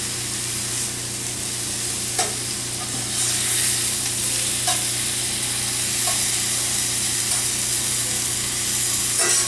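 Prosciutto sizzling steadily in a hot pan while French toast breakfast cooks, a loud continuous frying hiss with a few soft clicks and scrapes of a utensil, no talking.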